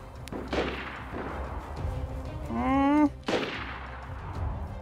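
A few sharp gunshots in the video game DayZ, distinct cracks spaced out over several seconds, fairly quiet, with a brief tonal in-game sound between them.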